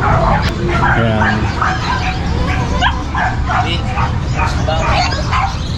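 Dogs yip, whimper and bark at a crowded open-air dog market where puppies are sold, with continuous loud crowd chatter and talking layered over the animals.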